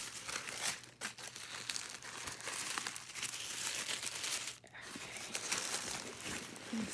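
Crinkling and rustling of packaging as a Chanel bag box is opened, a steady close, dry crackle running throughout with a brief pause near the middle.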